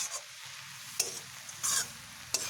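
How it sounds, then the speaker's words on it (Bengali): Arum leaves frying in a pan, a quiet sizzle broken by a few sharp bursts of stirring and scraping, with no one speaking. "আর একটু ভেজে নেব আমি এবার একটু এই কচু শাকগুলোকে ঢেকে দেব"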